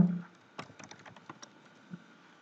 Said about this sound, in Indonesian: saya copy Ctrl A, Ctrl C, langsung Ctrl V